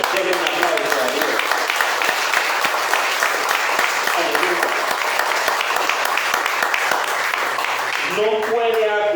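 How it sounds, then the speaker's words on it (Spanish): A church congregation applauds steadily and loudly throughout, dense clapping that fills the room while a voice speaks over it near the start, middle and end. "Denle un aplauso a Dios."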